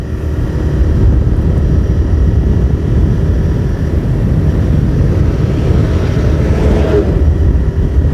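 A TVS Raider 125 motorcycle cruises at about 50, heard as a loud, steady engine drone buried in heavy wind rush against the microphone, with no clear change in pace.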